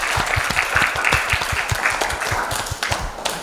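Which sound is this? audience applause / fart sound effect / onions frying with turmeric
audience applause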